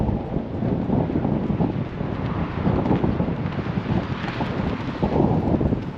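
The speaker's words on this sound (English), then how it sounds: "The wind today is no joke." Strong gusting wind buffets the microphone at a roadside rest area, flags whipping and flapping in a steady, loud broadband roar with no one speaking.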